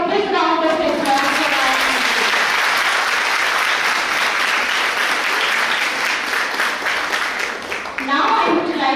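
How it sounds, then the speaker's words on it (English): An audience at a college International Women's Day event breaks into sustained, dense applause that fills the room, with a voice briefly audible at the start and end. "please give a big round of applause"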